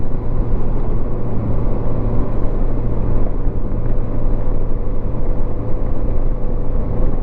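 A 1987 Honda GL1200 Goldwing motorcycle cruising at highway speed in top gear, a dense, steady low rumble mixed with heavy wind noise, loud and unbroken throughout, with no speech.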